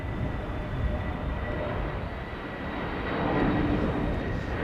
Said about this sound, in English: This is Transavia flight 5954, A321neo arriving from Lisbon.